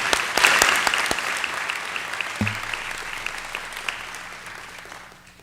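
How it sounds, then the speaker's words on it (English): Applause from attendees at a school district board meeting, loud at first with a few close sharp claps, then gradually thinning and fading out over several seconds. "One more round of applause."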